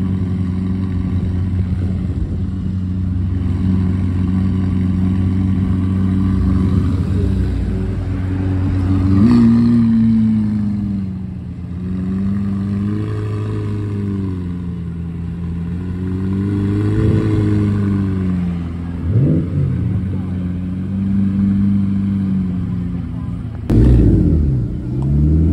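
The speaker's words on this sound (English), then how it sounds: "Sounds of a McLaren 750S." A McLaren 750S supercar engine revs repeatedly, its loud, throaty note climbing and falling in several rises and dips over a steady idle, with a sharp bark near the end.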